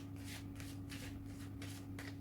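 A deck of cards being shuffled during a pick-a-card reading, quiet repeated riffling bursts close up with a low steady hum underneath.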